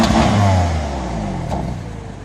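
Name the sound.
new BMW M3 engine revving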